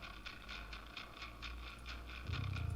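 Bass guitar through a Marshall amp simulation, a steady chugging line of evenly picked notes with a gritty upper edge, played alone and growing heavier near the end.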